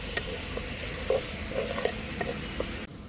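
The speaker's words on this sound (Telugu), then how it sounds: "ఇప్పుడు ఈ ఆనియన్స్ గోల్డెన్ బ్రౌన్ కలర్ వరకు మనం ఫ్రై చేసుకోవాలి." Onions frying with curry leaves in a pan over a wood-fired stove, a steady sizzle with a few sharp scraping strokes of a stirring spoon at irregular intervals, close and fairly loud, no talking.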